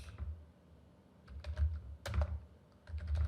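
Computer keyboard typing a Docker command, a few quick key clicks in short clusters, close and fairly quiet, no talk.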